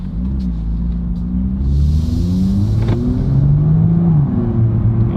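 A BMW M2 engine idling after a flash tune, a deep steady rumble with a slight rise in revs partway through, loud and close, with no one speaking over it.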